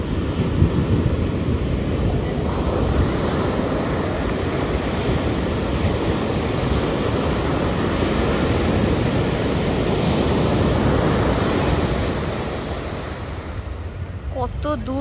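Sea waves roll at RK Beach in Vizag, a loud continuous surf roar mixed with wind buffeting the microphone, easing slightly near the end as a faint voice appears.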